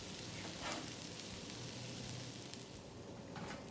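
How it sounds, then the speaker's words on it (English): A vegan burger bun toasts in a dry, oil-free pan, giving a faint, steady sizzle and hiss that continues evenly throughout with no talking. "We're just going to put our bun in because we want to toast it."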